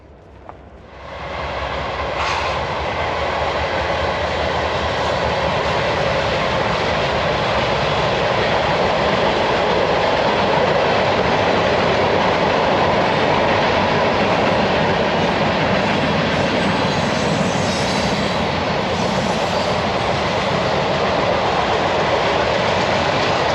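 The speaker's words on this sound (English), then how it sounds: "Surprise, surprise, I hear a train coming." A freight train carrying lumber rumbles up and passes close by, a loud, sustained roar of wheels and cars that fills the whole stretch after a quiet start.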